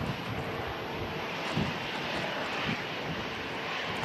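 An EasyJet airliner from Geneva goes around at Manchester Airport during the strong winds of Storm Darragh, its engines a sustained distant roar mixed with gusty wind buffeting the microphone.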